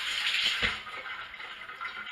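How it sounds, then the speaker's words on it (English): A fork rinsed under a running tap, with a steady close hiss of flowing water and a brief splash as the fork passes through the stream. "Let me rinse out my fork."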